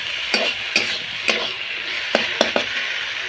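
Spatula scraping and stirring through a mustard paste of black and white mustard seed and cashew frying in a pan, with regular sharp strokes over a continuous close sizzle.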